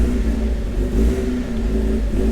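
Rebuilt Mazda Miata engine running, a close, steady mid-pitched hum with a low throb, continuous for a couple of seconds with no talking.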